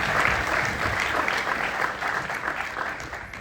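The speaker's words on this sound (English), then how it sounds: "I'd like you all to give a round of applause to our panelists." Audience applause for panelists at the close of a panel discussion on antimicrobial resistance, sustained and even clapping from a moderately sized crowd, heard alone throughout.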